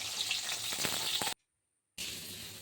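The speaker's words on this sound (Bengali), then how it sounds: "আর এখন বাকি পটলগুলো ভেজে নেওয়া হচ্ছে" Pointed gourd (potol) fries in oil with a close, dense sizzle and crackle, broken by a sudden brief silence before the frying resumes, with no talk.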